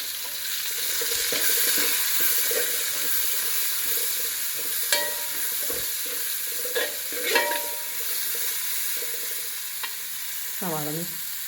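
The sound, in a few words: chopped onions sautéing in an aluminium pan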